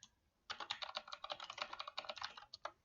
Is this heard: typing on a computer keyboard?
yes